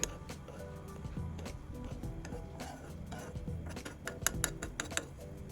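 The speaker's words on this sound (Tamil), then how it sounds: "இடைக்கிட கரண்டியால் கிளறி விடுறேன்." A spoon stirring homemade herbal hair oil with curry leaves in a metal pan, giving faint scattered clinks and scrapes, denser and sharper toward the end over a low background hum.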